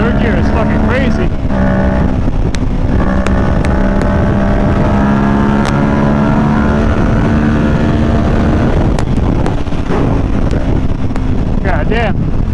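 A Kawasaki Ninja 650 motorcycle pulls hard in third gear, its engine note climbing steadily under loud, constant wind buffeting from riding at speed.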